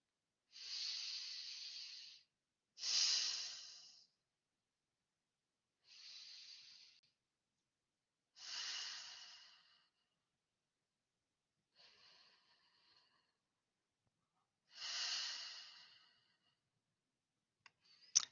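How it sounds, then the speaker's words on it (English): Deep breaths at the start of a meditation session, six slow airy inhales and exhales with long silent gaps between them, close and quiet, with no speech. "I want you to start by taking 3 just deep breaths."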